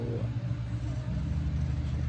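A car rolls past with a low rumbling engine drone that swells slightly, heard at moderate distance at an outdoor festival drone show.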